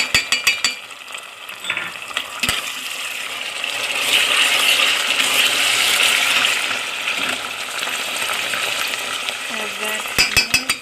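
Tomato paste frying with browned onions for a chicken curry: a sustained sizzle swells in the middle, bracketed by metallic clinks and scraping from stirring at the start and end.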